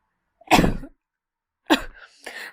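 A girl with a cold coughs twice, a sharp harsh burst followed after a pause by a second, two-part cough, close and fairly loud with silence between.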